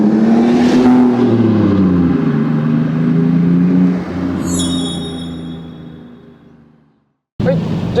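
Toyota JZA80 Supra RZ-S with a 2JZ-GTE twin-turbo straight-six and 6-speed manual, engine running loud and close with a rising rev, then a fading idle and a brief cut to silence before it resumes, voices underneath.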